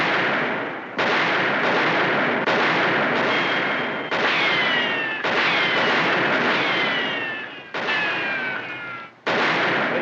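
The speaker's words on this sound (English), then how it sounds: "Tell him to stop firing." Gunfire in a Western television drama: a rapid, loud run of broadband shots and bursts, each cut sharply, with whining ricochet-like streaks trailing through several of them over ten seconds. No voices.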